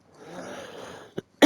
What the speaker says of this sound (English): Oh, this cough needs to go away